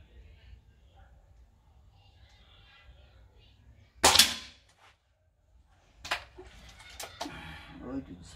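Several shots from a Black Knight 6.35 mm air rifle firing domed pellets, each a sharp, fairly loud crack, with one clear report followed by a few quicker snaps later, over a quiet background.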